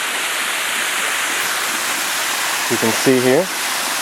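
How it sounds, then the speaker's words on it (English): Steady roar of Jones Gap Falls, a waterfall near a campsite, fills the whole clip as a loud, unbroken broadband rush, with someone speaking briefly near the end. "Get ourselves a waterfall right near our first campsite."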